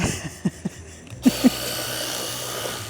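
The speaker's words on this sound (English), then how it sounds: "this was a Christmas present for Andy, a power washer" Power washer cleaning a racing kart, a few clunks followed by the motor starting up into a steady loud hiss and drone, close by.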